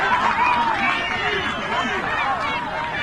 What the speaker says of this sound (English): The crowd saw something and they let the referee know.